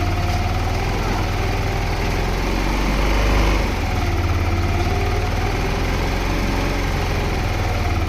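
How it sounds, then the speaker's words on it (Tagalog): A motorcycle engine with a fault caused by rusted parts revs to about 2000 rpm, a loud steady mechanical drone with a slight surge partway through, heard close up, with a person talking under it. "i-rev natin yung motor ng 2000 rpm yan"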